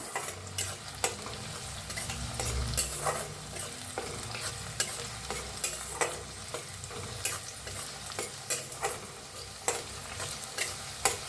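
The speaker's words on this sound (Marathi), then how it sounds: "लसूण आणि मिरची चेचून घेतले, अद्रक, हिंग हलवून भाजून घेऊया" Garlic, green chili, ginger and asafoetida being stirred and fried in a pan, with a soft sizzle under repeated sharp spatula scrapes and taps in a regular rhythm, close and steady with no talking.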